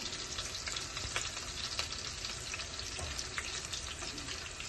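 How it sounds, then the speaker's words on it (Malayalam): Garlic and two cut dried red chillies fry in a hot pan for a Kerala-style fish curry, giving a steady, dense sizzle with occasional crackles and stirring scrapes, close and continuous with no talk. "അതിലോട്ട് വെളുത്തുള്ളിയാണ് ഇടുന്നത്. ഇനി അതിലോട്ട് 2 വറ്റൽമുളക് മുറിച്ചിടുവാണേ."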